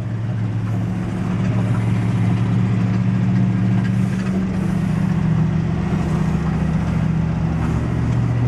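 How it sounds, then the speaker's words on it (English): An old engine idling on fast idle as it warms up, a steady low rumbling drone that holds even throughout, close and fairly loud, with no voices. "the engine sounds like it's getting pretty warmed up. Take it off fast idle."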